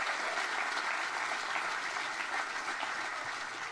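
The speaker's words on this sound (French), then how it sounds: "On les applaudit bien fort" An audience at a regional sports awards ceremony applauds steadily and warmly for the honored teams, a dense, even clapping that fills the room without pause.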